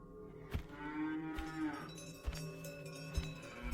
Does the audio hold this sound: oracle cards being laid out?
no